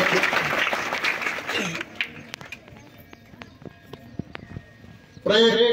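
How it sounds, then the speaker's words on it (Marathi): A crowd at a village school Independence Day gathering bursts into applause that fades after a couple of seconds into scattered individual claps, before a voice starts speaking. "सगळ्यांनी टाळ्या वाजवून स्वागत करूया"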